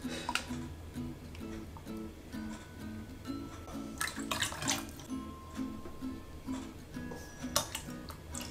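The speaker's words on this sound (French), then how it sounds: "Et je vais mettre cette fois-ci 2 doses d'huile, c'est-à-dire 2 fois 100 ml, soit 200 ml." Oil, a 200 ml measure, pours into a vinaigrette with a rhythmic glugging, a steady run of soft repeated pulses and faint ticking, close by with no talk.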